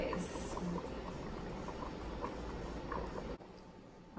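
Stew peas with dumplings bubbling in a covered pot, a dense, steady boil with soft popping, fairly quiet and close, dropping off briefly near the end.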